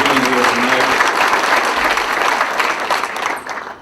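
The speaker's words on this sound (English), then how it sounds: "give yourselves a round of applause for being here tonight" Loud, close applause from a crowd at an evening political celebration, dense clapping that holds steady and tapers slightly toward the end, with a few brief voices mixed in at the start.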